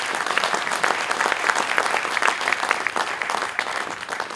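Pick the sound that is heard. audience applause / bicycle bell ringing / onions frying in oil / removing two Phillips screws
audience applause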